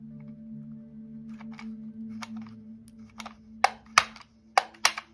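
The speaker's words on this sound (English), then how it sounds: "That sound, that clicking sound, is just the mechanism giving up." A worn-out tool mechanism gives a series of sharp, distinct clicks that grow louder and more frequent toward the end, over a faint steady hum, with no talking.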